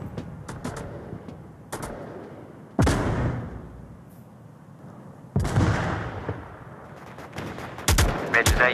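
Grenade explosions and gunfire in the Onward video game, several sharp blasts spaced a few seconds apart over scattered shots and background battle noise.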